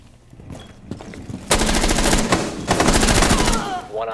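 Rapid automatic gunfire in Rainbow Six Siege on the Club map, with quiet footsteps and faint shots at first, then loud sustained bursts of close fire that end with a short tail.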